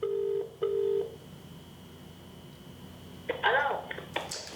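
A telephone being dialed to make a call, a few short, distinct tones with gaps between them, then a voice speaking over the line, close and clear.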